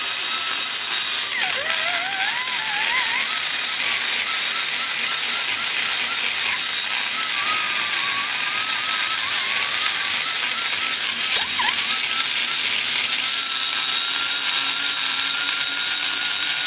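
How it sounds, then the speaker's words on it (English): A cast iron carbide cutter grinds around the edges of a Ford Focus 2.0 cast iron combustion chamber, a continuous close, harsh high-pitched whirring and scraping that wavers slightly in pitch, with no talking. "I'm gonna take my cast iron carbide and just go around the edges"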